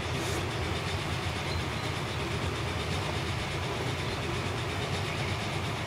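In the Transport Fever video game, a train runs along the line with a continuous, even rumble and faint rhythmic clatter that never lets up. No speech.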